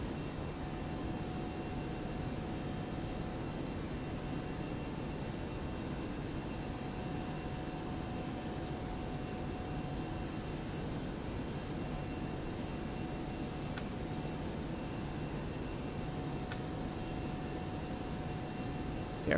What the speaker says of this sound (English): The airplane is climbing nicely.